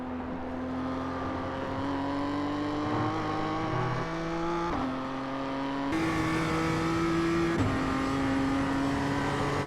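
Simulated BMW M2 CSR race car engine at Oulton Park in iRacing, droning steadily with pitch climbing through gears and dipping at shifts, loud and continuous, with no voices.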